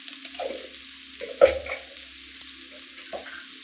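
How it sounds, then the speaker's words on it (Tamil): Chili powder frying in a pan of veg rice, a soft continuous sizzle with a few light scrapes and stirring knocks, close and fairly quiet. "போட்டு இதையும் நல்லா ஃப்ரை பண்ணிடுங்க."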